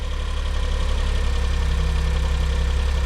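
A car engine runs steadily at about 2000 rpm during a cold warm-up, producing a loud, continuous drone with a low, even rumble throughout, with no voices over it.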